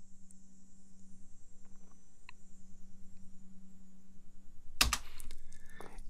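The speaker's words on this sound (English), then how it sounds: "if I were to click the play button or even press the space bar on my keyboard" A computer keyboard's space bar pressed once in a quiet room, giving a single sharp click near the end after a steady low hum.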